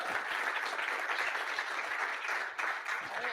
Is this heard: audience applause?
yes